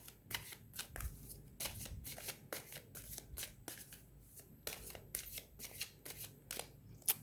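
Tarot cards being shuffled by hand, a close, quiet series of crisp riffling bursts in an irregular rhythm, with no talking.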